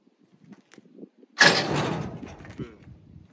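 A pinned barn-door tailgate on a BRI-MAR 612LP dump trailer swings open: faint metallic knocks and rattles, then a sudden loud clank and a sustained creaking, rattling swing that fades over about two seconds.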